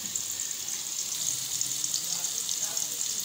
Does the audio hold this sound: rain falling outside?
no